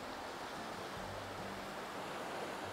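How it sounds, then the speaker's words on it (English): Gentle ocean waves wash onto secluded Klong Hin Beach on Koh Kut, Thailand, in a rock-sheltered cove. The result is a soft, constant hiss of surf, faint and unbroken. "See, the waves are pretty gentle."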